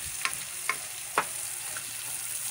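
Faint, steady sizzling of fried chicken pieces cooking in a pan for chicken afritada, with a few soft clinks of stirring scattered through.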